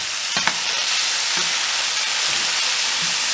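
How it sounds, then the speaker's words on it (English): Mahi mahi fillet frying hard in a pan, a loud continuous sizzle with sharp spitting and splattering pops scattered throughout. "It's really splattering and making a mess, isn't it?"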